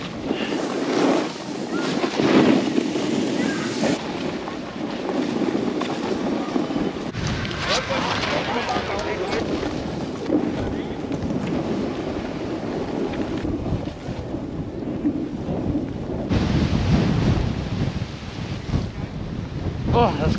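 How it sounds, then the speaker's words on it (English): Strong wind roars across a mountain ski slope in winter, continuous heavy buffeting on the microphone for about twenty seconds with gusts swelling and easing, and a person speaking at times beneath it. "The wind is so strong, it's blowing me back up the mountain."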